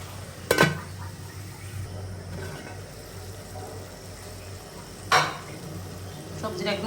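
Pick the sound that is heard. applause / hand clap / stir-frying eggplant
stir-frying eggplant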